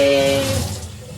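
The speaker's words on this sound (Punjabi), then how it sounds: "ਭਾਂਡਾ ਮਾਂਜ ਰਹੇ ਆ" Dishes being washed under running tap water, a brief splash of flowing water with a faint clatter that fades quickly.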